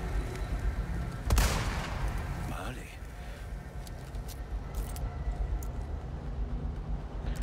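A single sharp gunshot in the video game Resident Evil 4 Remake cracks early on, followed by a steady wash of noisy game ambience with no further clear shots.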